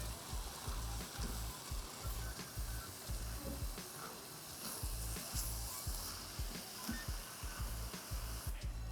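Rice tossed in a pot of chicken pelau gives a steady close sizzle and rhythmic scraping, soft repeated stirring strokes under continuous frying hiss.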